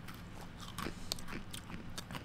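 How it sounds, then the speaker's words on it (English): Someone chews food close to the microphone, a quiet run of crunchy bites and wet mastication with small irregular clicks across a couple of seconds. "You can hear me chewing because I'm hungry."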